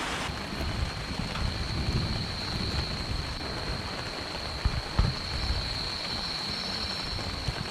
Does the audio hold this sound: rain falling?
yes